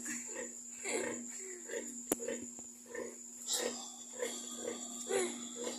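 A sow on a farm grunts in a series of short, repeated snorts while a chicken rests on her back, the grunts moderately close and rhythmic, with someone talking over them throughout.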